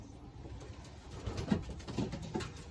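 Racing pigeons in a loft give a few soft, low coos close by, alone against a quiet background.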